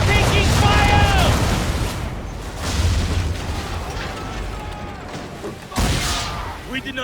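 Cannon fire and explosions strike a ship in Assassin's Creed 3, with loud, rumbling booms layered over continuous battle noise and a fresh blast near the end, while voices shout over the din.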